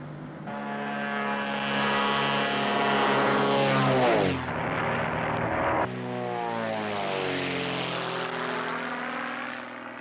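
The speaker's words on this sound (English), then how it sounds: "A crop duster." A crop duster propeller airplane flying overhead: a loud, steady droning engine whose pitch slides downward as it passes, then holds a sustained roar throughout.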